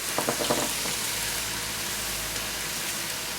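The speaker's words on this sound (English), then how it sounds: "As the onions lose their rawness, add the ginger, garlic and green chili and fry." Onion, ginger, garlic and green chili fry in a pan, giving a steady close sizzle with a few quick stirring clicks at the start, no speech.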